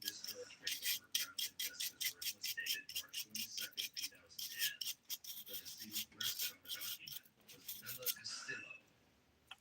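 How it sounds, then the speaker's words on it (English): Fingernails are wiped clean with rubbing alcohol before dip powder goes on, giving a close run of quick, rhythmic rubbing strokes that pause briefly near the end. "I'm gonna clean my nails off with rubbing alcohol"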